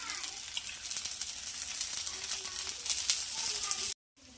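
Vegetable ponganalu sizzle in oil in a ponganalu pan, a dense steady crackle with light scraping, close and fairly loud, cutting off abruptly near the end.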